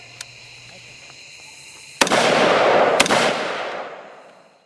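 Two loud, sharp gunshots from AR-type rifles fitted with a PWS CQB compensator, about a second apart, each leaving a broad roaring blast that fades slowly after a quieter lead-in.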